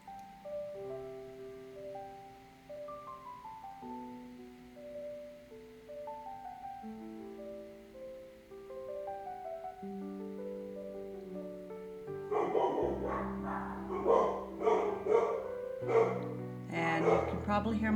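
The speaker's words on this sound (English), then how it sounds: "And you can probably hear my dogs barking." Pet dogs bark in a series of sharp bursts in the last few seconds, coming over sustained tonal background sounds at a home.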